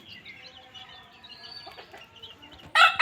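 Pure desi village hens ranging free, soft faint clucking and chirping close by, then a sudden loud squawk at the end.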